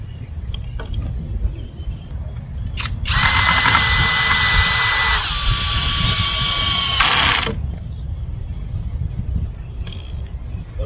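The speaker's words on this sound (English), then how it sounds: "screw your 2x3s to your existing post" Power drill driving screws through 2x3 boards into an existing wooden fence post, one loud close whirring burst of about four seconds whose pitch drops partway as the screw bites, with quiet outdoor background before and after.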